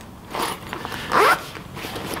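A zipper on the body-facing back compartment of a PAX Crag crossover bag is pulled in one quick, close rasping stroke lasting about two seconds.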